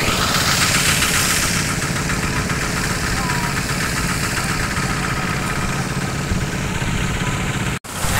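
A boat engine drones steadily and loudly with a rough, vibrating rumble, continuous throughout before a sudden brief cut near the end.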